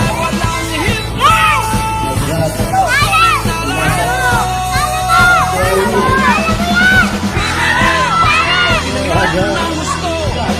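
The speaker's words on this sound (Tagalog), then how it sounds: "Solid ang fans. Malakas ang hiyawan." Loud crowd at a basketball game on an outdoor court in San Fermin Luma, yelling and whooping steadily over a dense hubbub of voices, with children's shouts mixed into the continuous noise.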